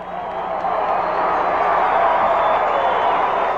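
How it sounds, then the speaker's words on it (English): Hornets fans of Menden High School applaud in the stands at a 1982 high school football final, a steady, distant wash of clapping and crowd noise that swells slightly and holds without pause. "the applause you hear in the background is from the Hornets fans"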